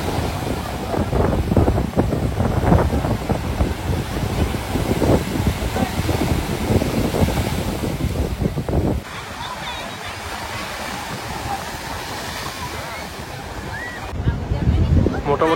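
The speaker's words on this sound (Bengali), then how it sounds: "এই মুহূর্তে আমি রয়েছি এখন পুরীর সমুদ্র সৈকতে।" Surf rolls in on Puri sea beach under a cloudy sky, a continuous roar mixed with strong wind buffeting the microphone, easing to a quieter hiss for a few seconds before swelling again.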